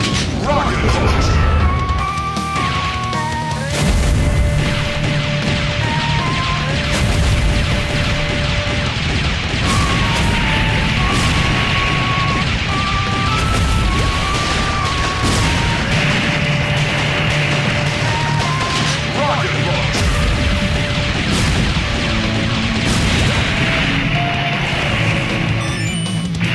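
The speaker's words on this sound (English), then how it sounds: "Rocket launcher!" Rocket launcher explosions in the mobile game Metal Slug: Awakening, a steady stream of booms and crashes layered under loud game music with melodic tones throughout, with voice lines heard over the action.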